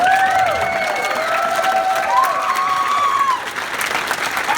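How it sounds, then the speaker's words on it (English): Enthusiastic crowd applause at a furry convention's 2020 closing ceremony, steady and close, with loud whistles sliding across it and a slight drop toward the end. "round of applause for yourself and for the charity"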